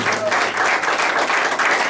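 A church congregation applauds Christ during a sermon, producing brief, dense clapping that fills the moment evenly at fairly close range.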